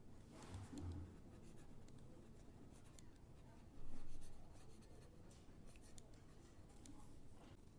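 Pen scratching quietly on paper while notes are written down, a soft continuous scribbling with a few slightly louder strokes, faint and close in a quiet room.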